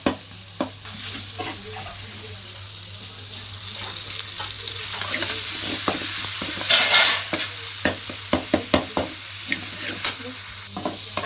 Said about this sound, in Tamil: தக்காளி வதங்கிட்டு இருக்கு பாருங்க